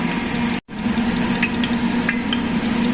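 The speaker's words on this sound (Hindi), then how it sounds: "ऑयल में हम डाल देंगे कुछ खड़े मसाले, साबुत मसाले इसमें डाल देंगे।" Whole black pepper, black cardamom, cinnamon and cloves fry in hot oil in a pan, giving a steady close sizzle with a low hum beneath, a brief dropout near the start, then faint clicks as the spices shift.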